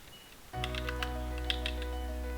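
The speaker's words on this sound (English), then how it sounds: "you would type the word in full" Keys on a computer keyboard click lightly in a short, irregular run of taps over a steady electronic hum that starts abruptly; no talking.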